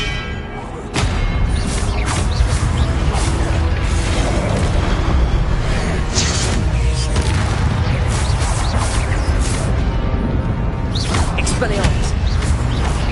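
Blasting-spell explosions in Hogwarts Legacy on PS4 boom loud and dense, one after another over a steady roar of combat effects, with a voice casting spells over them.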